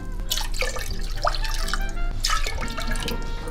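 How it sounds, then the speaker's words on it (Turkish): Water splashes and trickles into a pot for sugar syrup, dripping, bubbly pouring sounds, fairly close and steady, with a low hum underneath. "3 bardak da aynı bardak ölçüsüyle su ilave edeceğim."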